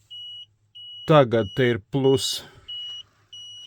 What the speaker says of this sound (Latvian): pēc kāda, atkal pīkst kļūdas paziņojums